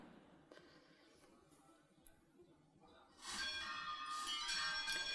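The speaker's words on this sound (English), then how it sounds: "This is called a repique de campanas, and it's a general ringing of all the bells" Church bells in a Spanish-style repique de campanas, a general ringing of all the bells: faint at first, then breaking into a loud, clanging peal of many bells sounding together in overlapping strokes.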